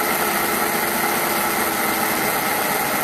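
An eddy current dynamometer built for Formula SAE, driven by a motor near 250 RPM under electromagnet load, gives off a steady, even whirring roar with no pauses across the whole stretch.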